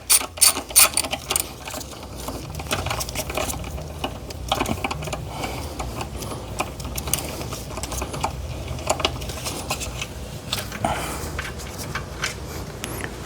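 A ratchet clicks in rapid bursts while removing an intake manifold stud nut on a 2020 Toyota Avalon, close and busy metallic ticking that carries on throughout, with a few heavier knocks near the start.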